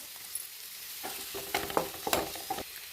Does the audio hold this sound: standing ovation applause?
no